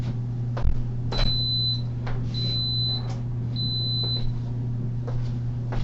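An Instant Pot switched on to sauté gives three evenly spaced, clear electronic beeps, each lasting under a second, over a steady low kitchen hum.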